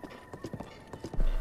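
A horse trots through Zelda: Breath of the Wild, its hooves clip-clopping in a quick, even rhythm over a low ambient bed, with a louder burst near the end.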